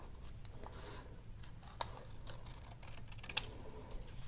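Scissors snip through folded craft material, cutting two bunny-ear pieces at once for a 3D egg bunny ornament: quiet, close snips and rustles with a couple of sharp clicks, no talking.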